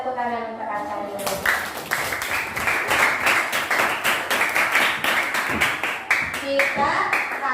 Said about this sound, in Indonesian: tepuk tangan untuk Aca dulu